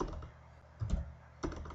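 Typing on a computer keyboard while scripting in Unity3d, a few quiet clusters of key clicks spaced apart, faint and close.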